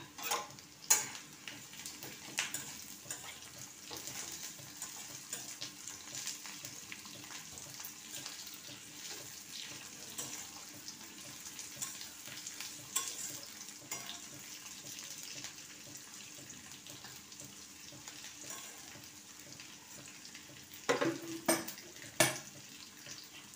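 Peanuts, cashews, raisins, cardamom, cloves and cinnamon fry together in oil with a quiet, steady sizzle. Scattered soft crackles run through it, and a few louder clatters come near the end.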